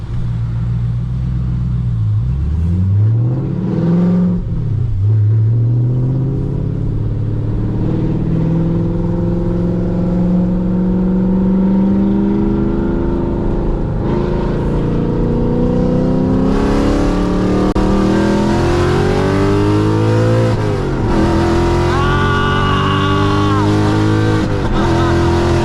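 A loud Audi RS6 V8 heard from inside on a drive, the engine rising through long revving pulls with gear changes and a steady deep rumble throughout.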